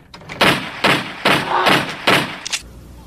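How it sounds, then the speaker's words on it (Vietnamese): Four loud, sharp bangs in quick succession, evenly spaced, followed by a smaller crack, like a toy gun firing close by. "cái súng này nổ rất lớn tiếng"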